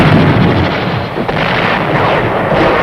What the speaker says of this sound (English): The incoming artillery fire, rockets, and mortars of the enemy continue to pound the garrison.